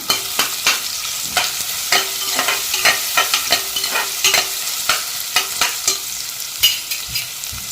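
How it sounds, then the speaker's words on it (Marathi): Finely chopped onion sautés in oil inside a pressure cooker, a close sizzle punctuated by a steady series of sharp scraping knocks as a spoon stirs against the metal pot. "पहिला आधी कुकरमध्ये तेल घेतलं आहे आणि तेलामध्ये बारीक चिरलेला कांदा थोडासा टाकायचा आहे आणि कांदा चांगला परतून घ्यायचा आहे"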